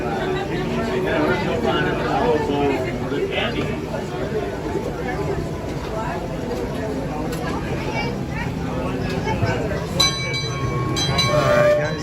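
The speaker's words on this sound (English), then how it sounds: "that means our train is about to pull in" A train pulling into the station at Knott's Berry Farm during Knott's Scary Farm opening weekend, with steady rolling rumble and wheel noise, a brief high squeal near the end, and crowd chatter throughout.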